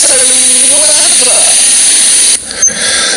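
A NASA engine testing device, a wet surface air cooler, gives a loud, steady roar with a high whining tone that cuts off sharply toward the end.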